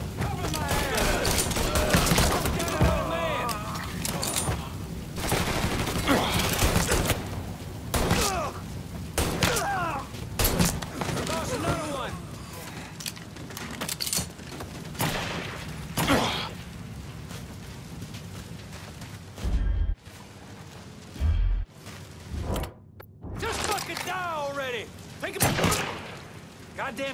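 Rapid gunfire crackles through a Mafia III Definitive Edition firefight, dense bursts and thuds filling most of the stretch with brief gaps near the end, loud and close.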